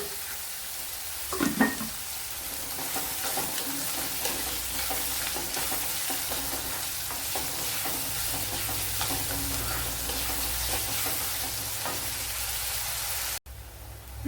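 Onion-based masala for egg roast sautés in a pan, a constant loud sizzle with a stirring clatter near the start, running unbroken until an abrupt cutoff near the end.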